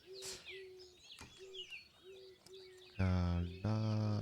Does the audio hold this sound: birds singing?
yes